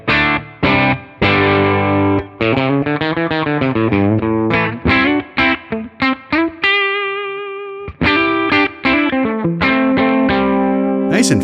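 Electric guitar played through a Tonex amp model set to push 1 at the edge of breakup, bridge pickup, lightly overdriven chords and single notes in choppy phrases with a sustained ringing chord partway through, loud and up close.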